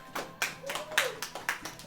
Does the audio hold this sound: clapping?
yes